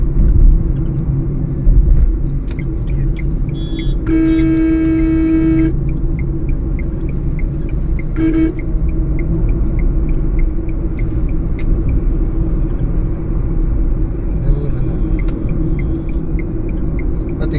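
On a busy road a truck registered in Kerala moves through traffic, heard as a loud, constant engine and road rumble with one long horn blast and a shorter honk.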